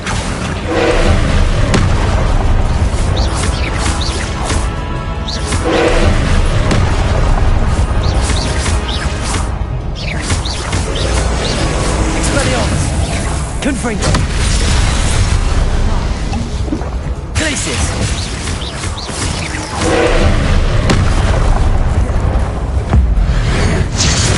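Explosive Confringo spells go off in the Hogwarts Legacy video game as repeated loud booming blasts and crashes amid combat noise, with a voice talking over the action.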